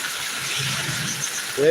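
A heavy downpour in Attingal, Trivandrum keeps up a broad, steady wash, while a person talks over it and a voice rises near the end.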